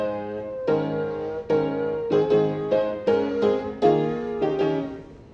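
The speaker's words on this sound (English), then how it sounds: "without the pedal, it'll sound like this." A piano played without the sustain pedal, the hymn "I Stand Alone" in dry, separated chords: each struck cluster decays quickly before the next, close and clear, with no talk.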